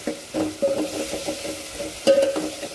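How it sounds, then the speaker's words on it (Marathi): Chopped coriander sautéed with tomatoes in hot tempering oil, a soft sizzle broken by several scraping stirs of a spatula across the pan, close and moderately quiet, without voices. "कोथिंबीरला पण चांगलं परतून घ्यायचं फोडणीमध्ये"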